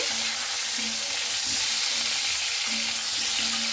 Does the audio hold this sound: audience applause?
no